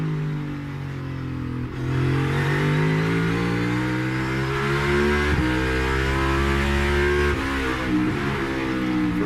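A NASCAR stock car engine revving hard on track during practice, a loud close-up roar that climbs in pitch, drops sharply with a quick downshift, then climbs again, with no voices over it.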